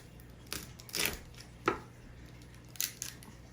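Scissors snip through the shell of a Maryland blue crab being picked, a few sharp crunchy cuts spaced apart at close range with faint room noise between them and no talking.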